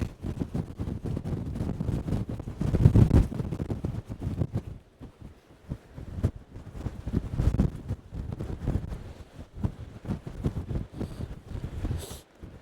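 Strong gusty wind buffets the microphone in rough, uneven roars, easing briefly before surging again; no voices.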